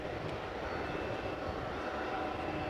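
British Airways Airbus A320 jet departing runway 18C at Amsterdam Schiphol, a steady broadband engine roar held at constant level throughout, moderately distant with no speech over it.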